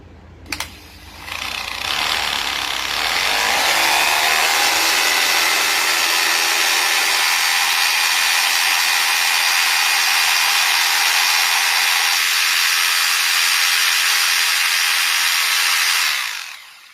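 An M22 hammer drill runs continuously in hammer mode, a loud, steady high-pitched whir and rattle that starts with a click and spin-up and keeps going evenly for about fifteen seconds before cutting off.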